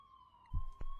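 A steady siren tone from an ambulance carrying a student as it drives away, holding level throughout with low rumbling bumps partway through.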